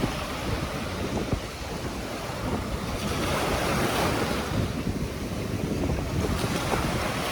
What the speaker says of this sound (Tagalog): Nabigla na naman ako sa lakas ng hangin at alon.